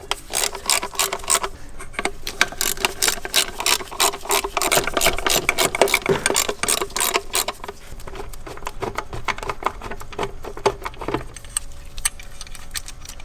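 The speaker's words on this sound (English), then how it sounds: "we're going to use a 10mm socket to remove the 4 bolts holding in the throttle body" A 10mm socket on a ratchet backs out the throttle body bolts on a BMW N55 engine, giving rapid close metallic clicking in bursts with short pauses and light rattles between them, no talk.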